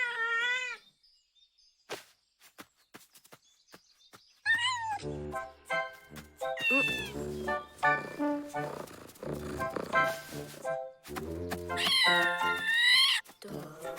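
A cat meows several times, high and plaintive, first alone and then repeatedly over a busy stretch of other sound.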